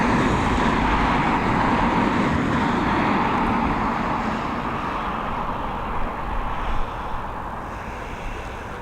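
An airliner taking off from the north runway at Dublin Airport, a loud broad jet roar that holds steady and then slowly fades as it climbs away, with no one talking.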